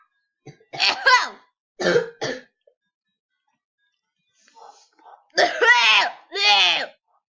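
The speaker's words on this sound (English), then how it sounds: "Yeah, he's gonna cough." A few short, rough coughs from a polar bear in a Minecraft Skywars game, in separate bursts, close and fairly loud, with quiet gaps between them.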